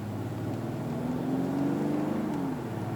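A Hyundai Grandeur accelerates in sport mode with its artificial active engine sound switched on, giving a steady, smooth engine hum with a faint rising tone, heard from inside the cabin at moderate level, with no talk.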